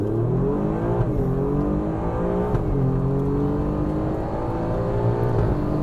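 An Alfa Romeo Giulia Quadrifoglio accelerates hard in race mode on a track. The engine roars loudly and climbs steadily in pitch, with brief dips at quick gear changes, close and continuous throughout.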